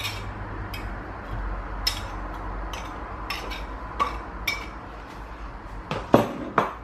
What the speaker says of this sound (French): et je mélange tout ça ensemble